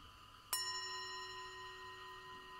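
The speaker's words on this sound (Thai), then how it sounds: "เสียงสัญญาณระฆังเตือนทุกท่านมีสติรู้ตัวทั่วพร้อม" A meditation bell is struck once, giving a clear, quiet chime whose bright tones ring on and fade slowly through the rest of the stillness.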